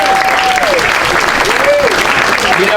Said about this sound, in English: All right, let's give Chris a big round of applause.